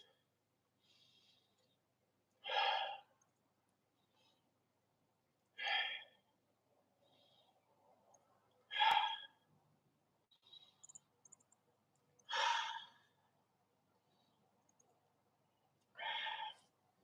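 Slow, deliberate breaths are drawn during a kung fu stretch with the wrists intertwined and the shoulders pulled back. Five distinct breaths come at roughly three-second intervals, close and soft, against near silence.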